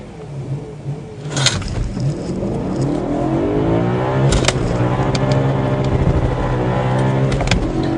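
A Nissan R35 GT-R launching hard with traction control off and wheel spin, its engine roaring up through the revs with a rising whine, loud and close, with brief bursts of tire noise.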